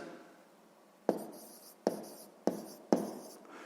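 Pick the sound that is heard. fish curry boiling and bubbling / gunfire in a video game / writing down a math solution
writing down a math solution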